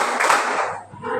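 Hands clap loudly nearby in a classroom, a quick burst of claps with a little voice sound mixed in.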